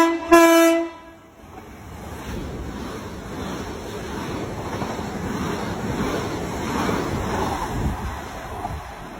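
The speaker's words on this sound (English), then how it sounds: "Got a tone from a non-stop class 375, and it was more than one." A brief, loud two-tone horn blast from a non-stop class 375 train, followed by the rushing roar of the passing train that swells and fades over several seconds.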